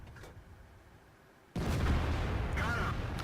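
A tank cannon in World of Tanks fires one heavy, loud blast that cuts in suddenly over low battle rumble and keeps roaring through to the end, with a faint voice underneath.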